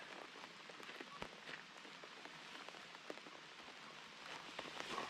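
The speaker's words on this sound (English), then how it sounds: "It's raining." Rain patters steadily on surfaces outside a campsite on a logging trail, a soft continuous hiss with scattered sharper drops, faint and alone without voices.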